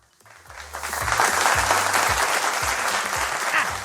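Studio audience at a Kurdish TV game show bursts into sustained applause, rising quickly and holding steady, dense clapping with a few background voices.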